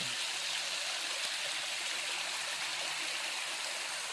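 Water from a mountain spring and valley stream runs in a continuous, even rush of broadband splashing, close and steady with no pauses, and no voices over it.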